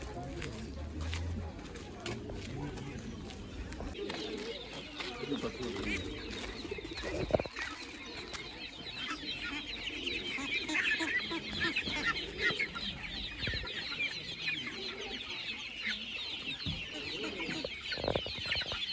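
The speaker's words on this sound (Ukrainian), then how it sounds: "тут пташиний ринок" Chickens cluck and other birds chatter in a busy outdoor bird market, with people talking nearby and steady crowd bustle throughout.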